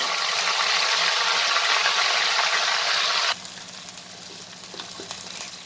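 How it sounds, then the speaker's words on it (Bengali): Potatoes fry on high flame with a loud, steady sizzle that drops suddenly to a quieter, bubbling fry as a ground spice paste is added, with faint stirring clicks afterward. "আলুগুলোকে আমি 2-3 মিনিট হাই ফ্লেমে ভেজে নিয়েছি। এবার এতে মিক্সিতে তৈরি করে রাখা মশলাটা দিয়ে দেব।"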